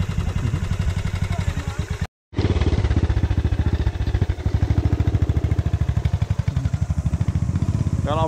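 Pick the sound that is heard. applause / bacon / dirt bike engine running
dirt bike engine running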